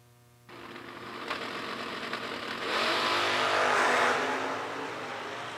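An Oldsmobile drag race car launches and accelerates hard down a dragstrip, a loud rising engine roar that swells sharply then holds and begins to fade as it pulls away.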